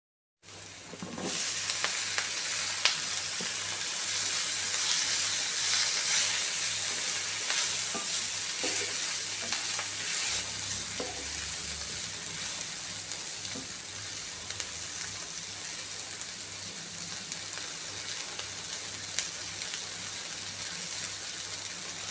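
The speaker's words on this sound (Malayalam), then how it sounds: "ഒരു പച്ചമണം മാറുന്നവരെ ഒന്ന് വഴറ്റി കൊടുത്തിട്ട് അരിഞ്ഞു വെച്ചിരിക്കുന്ന വഴുതനങ്ങ ചേർത്ത് കൊടുക്കാം" Chopped brinjal with turmeric sautés in a hot pan, giving a loud, even sizzle that starts abruptly and carries on steadily, with occasional stirring scrapes.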